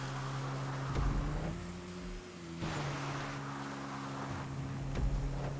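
A motorcycle engine in GTA V on PS4 drones steadily at a fairly low level while racing past cars, its pitch rising and dipping as it passes them, with soft rushing wind noise and no talk.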